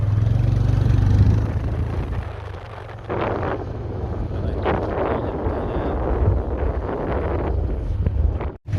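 Wind roars steadily across the microphone during a motorcycle ride, a loud, constant low rumble that eases slightly in the middle and swells again, with no voices.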